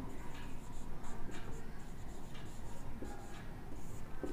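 Chalk or marker writing on a board while a maths problem on triangles is solved: faint, scratchy strokes in short bursts, quiet and close, with no talk over them.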